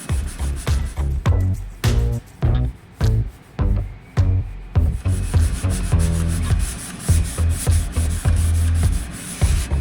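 Hardwood trim on a sailboat is hand sanded with sticky-back sandpaper wrapped over a foam sanding block, producing close, loud, rhythmic rubbing strokes in rapid back-and-forth bursts with no voices.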